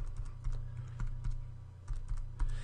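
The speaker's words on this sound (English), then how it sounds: "and I'll type in the password" Password typed on a computer keyboard, a quick run of light, close key clicks in uneven bursts over a low steady hum, with no voices.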